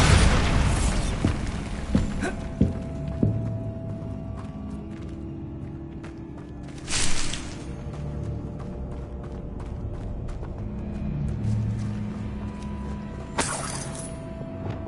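The Bombarda blasting spell from Hogwarts Legacy goes off as a heavy boom at the start, followed by scattered crackles, thumps and a couple of hissing bursts over low game ambience.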